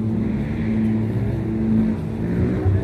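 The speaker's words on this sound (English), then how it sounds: "check out all these motorbikes right here" Motorbikes rumble at Gorky Park in Moscow, a loud, continuous low engine drone with a steady idle and slight revving.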